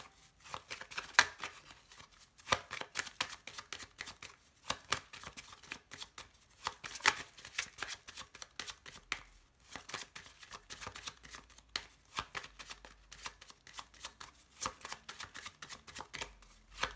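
Tarot cards are shuffled by hand at close range: soft, rapid riffling and slapping bursts, repeated in uneven clusters over a long stretch, fairly quiet and without talk.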